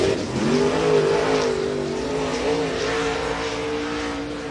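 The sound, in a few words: late model race car 41 on dirt racetrack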